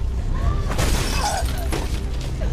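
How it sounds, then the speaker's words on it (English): Glass and steel window smashed by a headbutt in Beyond: Two Souls, a loud shattering crash with scattering debris over game music, no talk. "I headbutt through this fucking glass and steel window frame"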